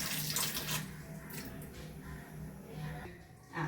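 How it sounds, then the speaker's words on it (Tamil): Water splashes and pours steadily into a pan for cooking fenugreek kali, a continuous rushing trickle with a few louder gushes. "அது கூட கொஞ்சம் தண்ணி ஊற்றிக்கலாங்கம்மா."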